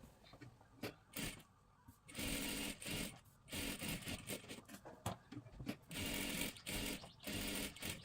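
A sewing machine stitches tucks on a top in several short, rapid bursts separated by brief pauses, heard up close and fairly quiet.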